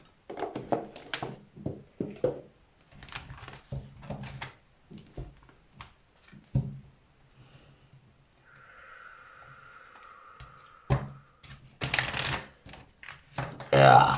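Oracle cards, an archangel deck, are shuffled by hand in a series of soft riffling and flicking bursts, close and quiet, with a voice speaking intermittently between them.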